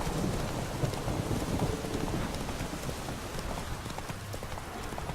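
Roach, the horse in The Witcher 3: Wild Hunt, clops steadily through a rainstorm, hoofbeats blending with constant heavy rain and low rumbling, with no talking.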